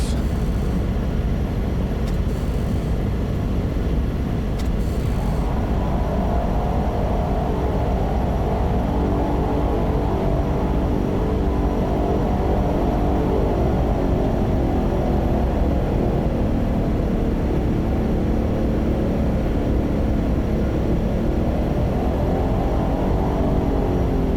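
A Cessna 208B Caravan turboprop taxiing in Microsoft Flight Simulator 2024, a loud continuous engine drone with a slowly shifting whine, steady throughout with no talking.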